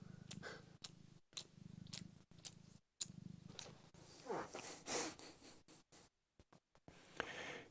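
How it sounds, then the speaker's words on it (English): A cat purrs close to the microphone in steady low rumbling pulses, with faint licking and sniffing noises and brief dropouts. Soft snorts and rustling come through toward the end. "Go purr a bit. Can you hear his purr?"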